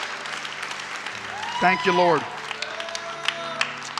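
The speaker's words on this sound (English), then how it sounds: "give them a big round of applause" A church congregation applauds as people come forward during a service, a soft, continuous patter of clapping running under a voice speaking briefly in the middle.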